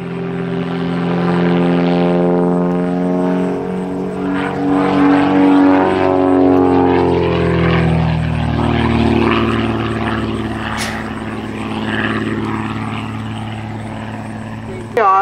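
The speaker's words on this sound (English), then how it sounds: "I just love the sound of the air moving between the wings of that airplane and those wires." A Skybolt 300 propeller biplane drones overhead at an airshow, its engine pitch rising and falling as it swoops through aerobatic turns, loud and close before easing off.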